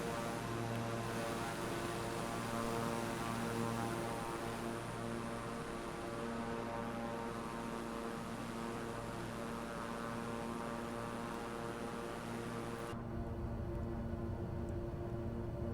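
An Embraer 121 Xingu's engines drone steadily and loudly throughout in a video game, the tone holding even as the airplane climbs, with no voices.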